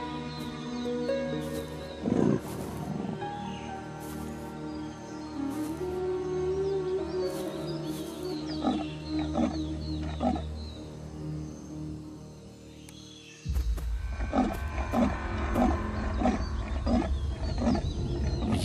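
Big cats in a jungle, with a black panther and a jaguar, give repeated deep roars and growls over a low rumbling background. A louder, rougher roar bursts in near the end.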